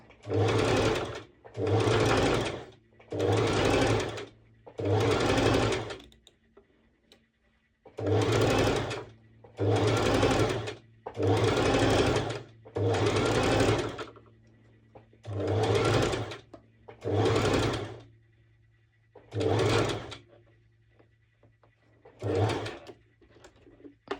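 A sewing machine stitches a lettuce-edge hem on stretched fabric in about a dozen loud, even bursts of rapid whirring, each lasting a second or two and separated by short pauses.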